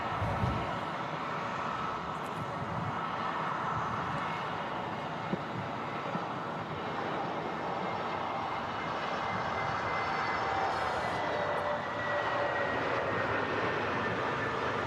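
An airliner lands on runway 05 left at Manchester Airport, its engines a loud sustained roar that swells and shifts as the jet touches down and rolls out, heard from a nearby spotting position on a wet day.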